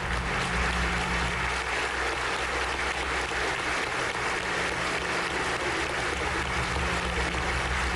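Sustained, dense applause from a large crowd inside Cuba's National Assembly in Havana, steady and loud throughout without a break, with a faint low hum underneath.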